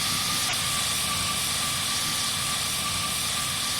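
Airplane landing at Saint Barthélemy airport, a loud, steady roar of jet or turboprop engine noise with broad hiss, continuous and close throughout, no speech over it.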